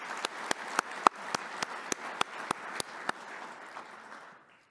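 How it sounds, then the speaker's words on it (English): Sparse, evenly spaced claps from a small audience at a government travel conference opening ceremony, about a dozen sharp hits in a steady rhythm that trail off into quiet. "So a round of applause for Tina and Brian because they've really stepped to the plate"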